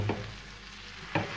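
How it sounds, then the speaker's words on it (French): Butter burning in a hot pan gives a low steady sizzle. Two brief scraping stirs cut in near the start and the end, close and moderately loud, with no talking. "Là, le beurre a bien cramé."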